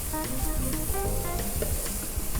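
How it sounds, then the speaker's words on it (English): Zucchini noodles sauteing in a preheated pan, a constant loud sizzle with rhythmic stirring scrapes and clatter running throughout, close up with no talk. "You just want to give it a saute."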